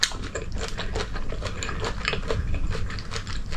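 Crunchy, sweet food from a dumpster haul bitten and chewed close up, a steady run of crisp crunching bites with no talk over them.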